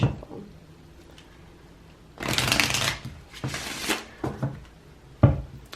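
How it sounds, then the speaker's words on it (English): Two bursts of cards being riffled and bridged, crisp and close, followed by a few soft taps as the deck is squared, with quiet pauses between. "Do one more shuffle"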